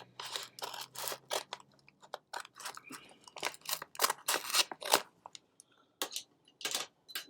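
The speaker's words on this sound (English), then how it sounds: "get my scissors out to cut it open" Scissors snip and tear through a heavily taped, double-sealed envelope, giving a rapid series of close, sharp cuts and crinkly scrapes with short gaps between them.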